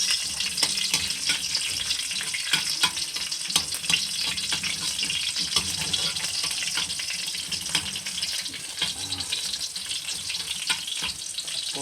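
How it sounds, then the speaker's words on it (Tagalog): Garlic sautéing in a frying pan, a steady dense sizzle with crackling pops running continuously at close range, no voices. "Sisimulan na natin maggisa. So, ayan guys, simulan na natin igisa tong bawang."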